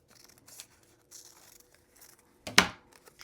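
Scissors cutting recycled magazine paper, a few soft snips and crinkles followed by one sharper, louder cut near the end, close up and with no voices.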